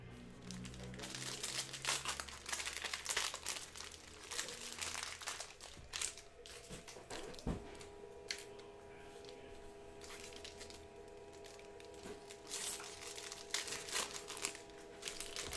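Foil trading card packs of 2020 Prizm football are crinkled and ripped open, with steady crackling and rustling handling noise close by, a few sharper tears and bumps along the way.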